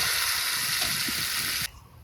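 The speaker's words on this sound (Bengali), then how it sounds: "এখন এই গরম তেলে মাখানো মাংসটা ঢেলে দেব।" Marinated chicken for dhania chicken hits hot oil in a pan, raising a loud, steady broadband hiss that cuts off sharply near the end of the two seconds.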